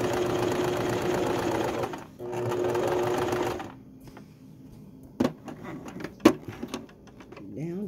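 A sewing machine stitches a baby quilt in two steady whirring runs, then stops for quieter handling clicks and rustling as the fabric is lifted and turned.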